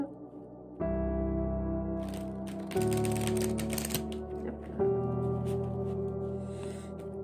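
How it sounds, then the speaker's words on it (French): Oracle cards being reshuffled by hand, crisp riffling and slapping bursts over a soft, sustained musical background. "on va faire un bon petit remélange"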